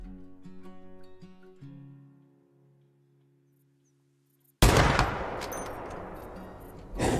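Rifle shot at a whitetail buck from a tree stand: a single loud, sudden blast breaking a near-silent stretch after some faint tonal background sounds, followed by a long rolling echo that fades out.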